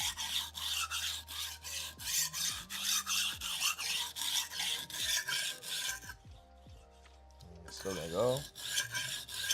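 A Shun kitchen knife drawn in repeated rasping strokes across a sharpening stone to raise a burr, a steady rhythm of close scraping passes that pauses briefly before resuming, with a faint voice speaking once.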